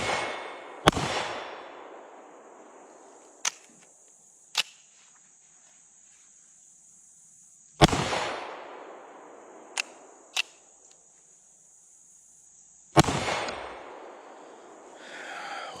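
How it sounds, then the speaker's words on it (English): A Keltec PR57 pistol fires during break-in outdoors: sharp, loud shots spaced irregularly, some followed by long ringing decays, with quieter clicks and cracks between them and a steady insect drone behind. "we're going to keep shooting and see if we can get it broke in"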